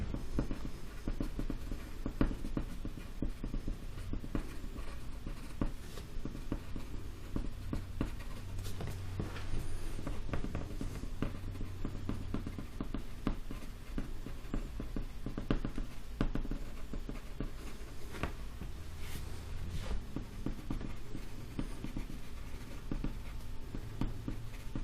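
Pen scratching squiggly leaf texture onto paper in quick, continuous strokes, close up and steady throughout with no speech.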